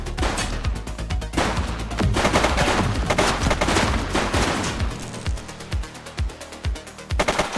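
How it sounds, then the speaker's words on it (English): Automatic and single gunfire in the police video game The Precinct, dense rapid bursts filling the first five seconds, then sparser, separate loud shots toward the end. "Shots fired!"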